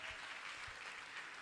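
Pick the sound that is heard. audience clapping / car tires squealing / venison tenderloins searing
audience clapping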